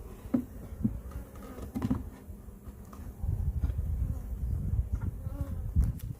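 A low, steady buzzing of honey bees around an open hive hums throughout, thickening in the second half, with a few faint clicks and knocks nearby.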